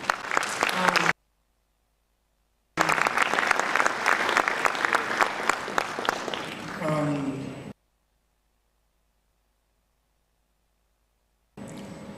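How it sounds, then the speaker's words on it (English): Applause from an audience at a televised climate and energy meeting comes in bursts separated by silent gaps, dense clapping that tapers off before resuming briefly at the end. "You deserve a big round of applause."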